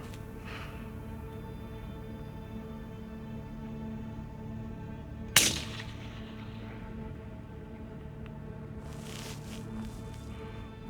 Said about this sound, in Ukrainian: постріл номер 2 700 метрів